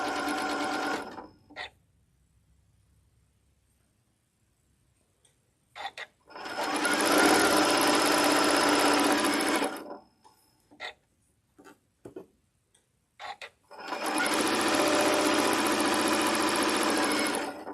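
A sewing machine stitches fabric in three loud, steady whirring runs separated by quiet gaps with small clicks and handling noises, the last bursts ending in short back stitches.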